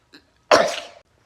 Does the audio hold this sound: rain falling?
no